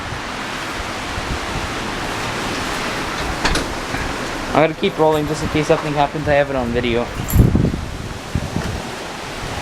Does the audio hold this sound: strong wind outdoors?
yes